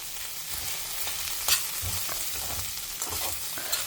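Okra sautéing in a pan with spice powder added, a steady frying hiss broken by a few scraping stirs and clinks from a spoon, close and moderately loud with no talking.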